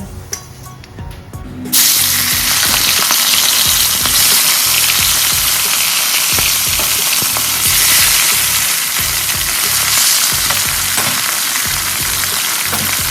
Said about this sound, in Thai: เดี๋ยวเราจะมาทอดปลาที่เหลือกันค่ะ